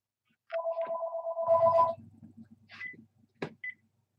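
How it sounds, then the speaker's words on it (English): A telephone ringer rings during a home live stream, a steady electronic warble lasting over a second, then short beeps and a sharp click as the phone is silenced, with low rumbling noise underneath. "I forgot I turned the ringer back on"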